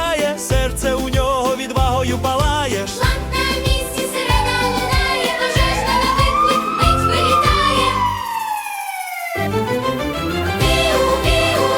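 A fire engine siren sweeps up and down over a pounding, rhythmic children's song track, one long rising-and-falling wail standing out in the middle.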